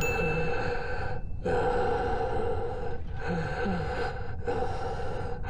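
A judge from the video game Final Fantasy XII breathes heavily through a mask. Slow, loud, rasping inhales and exhales repeat in a steady rhythm over a constant background hum.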